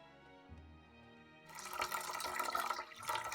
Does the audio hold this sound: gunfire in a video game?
no